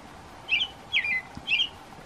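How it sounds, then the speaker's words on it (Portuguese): A rufous-bellied thrush sings in a wildlife refuge, giving three short, bright whistled notes spaced about half a second apart. The notes are faint and distant over quiet background hiss. "E o sabiá veio cantar pra gente."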